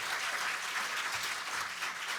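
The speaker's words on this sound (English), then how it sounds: "Give them a round of applause to start with." Audience applause at a media industry conference panel: steady, dense clapping from a sizeable crowd that holds an even level throughout, a fairly soft wash with no voices over it.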